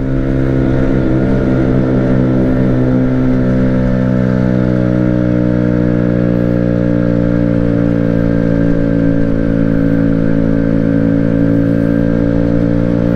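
Amstar Nostalgia 50cc motorbike engine climbing a slight hill near 8,000 rpm, a loud, close, steady high-pitched buzz held at constant revs throughout, with no talking.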